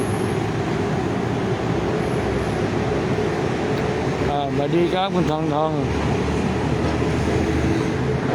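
A BTS Skytrain passes on the elevated line above a Bangkok street, a broad rumbling roar that swells and fades under constant traffic noise, with someone speaking briefly midway.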